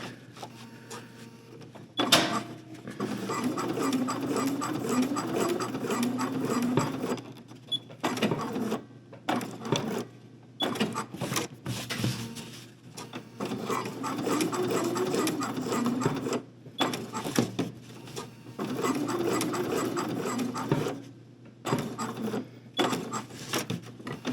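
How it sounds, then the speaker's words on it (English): Sewing machine back stitching the seams of a Cavalcade Traveler overnight bag, running in steady bursts of rapid mechanical stitching with short pauses between passes, close and fairly loud. "But I'm definitely going to give this some good back stitching."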